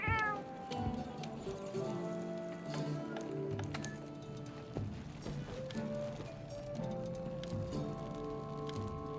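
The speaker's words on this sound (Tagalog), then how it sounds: "Kakausapin ko lang yung pusa dito." Palico cat companion in Monster Hunter World meowing in a series of short, close calls over soft game background music, with light clopping sounds mixed in.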